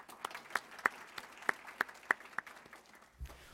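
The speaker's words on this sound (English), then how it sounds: "Round of applause." Sparse, scattered clapping from a small audience at a lunch-and-learn talk, with a few sharp individual claps spaced irregularly and fading out.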